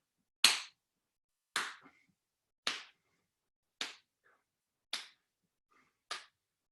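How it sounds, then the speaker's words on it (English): Hands clap at the top of arm swings during a Qi Gong morning movement session, six single sharp claps spaced about a second apart, close and clear with near silence between them. "you can clap at the top to push the momentum of the arms forward"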